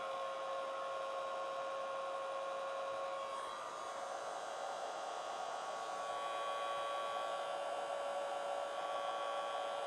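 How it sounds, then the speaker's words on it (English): A heat gun heats EVA foam for a cosplay pivot hinge, giving a steady, even blower whir with a constant humming tone throughout, no talking. "with your heat gun"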